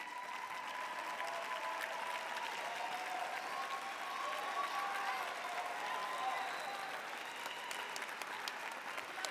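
Steady applause from a graduation ceremony crowd, a sustained wash of many hands clapping at a fairly distant, even level throughout.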